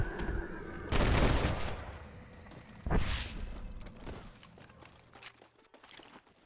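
Gunfire in the Red Dead Redemption video game, two loud close shots a couple of seconds apart, each trailing into a rumbling echo over ambient game noise.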